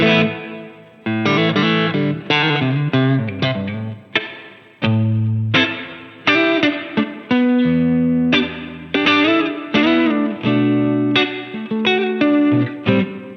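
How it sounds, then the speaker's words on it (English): Electric guitar through a Line 6 Helix Stomp XL plays a series of chords and single notes, each ringing out with a lush, vintage-style dynamic plate reverb tail. "Then I can add the reverb as the dynamic plate."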